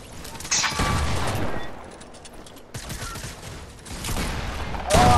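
Fortnite Battle Royale gunfire in a squads match, with bursts of rapid shots in several loud, close clusters separated by brief lulls, and some mechanical clatter between the volleys.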